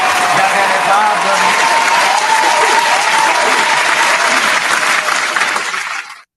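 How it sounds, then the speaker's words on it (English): A large crowd applauds in a dense, sustained wash of clapping and cheering that holds steady for several seconds before cutting off sharply. "round of applause for the vibe, the feel"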